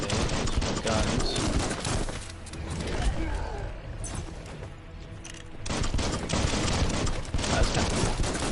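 Rapid bursts of gunfire in the video game Biomutant rattle loudly and densely, sustained volleys that briefly thin out in the middle before resuming at full intensity, with mechanical clatter mixed in.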